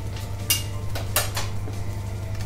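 A sea bass fillet turned in a pan and plated, with a few sharp clinks and scrapes of utensil against metal over a low steady hum of kitchen sizzle and background.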